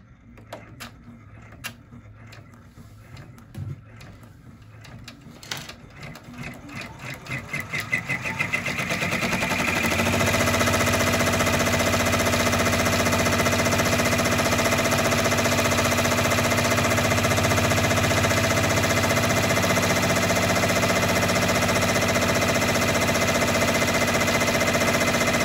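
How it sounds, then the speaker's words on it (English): An in-the-hoop embroidery machine runs a placement stitch for an appliqué bag, starting with scattered clicks and taps before settling into a loud, steady mechanical whir and rapid needle chatter that holds to the end. "So this first stitch that it's going to do is just like a placement stitch."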